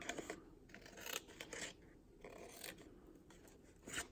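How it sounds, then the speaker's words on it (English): Scissors snip through paper, cutting out shapes for a stamped Halloween card project, with quiet, close, repeated snipping and rasping strokes. "all I did here was just cut these out"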